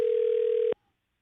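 A single continuous telephone tone sounds loud and steady for about three quarters of a second during a call that goes unanswered and forwards to voicemail, then cuts off abruptly into silence.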